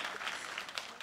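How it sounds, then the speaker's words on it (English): An audience claps at an awards event honoring a student, a steady patter of applause at moderate distance, fairly soft, with no speech over it. "Please clap for her."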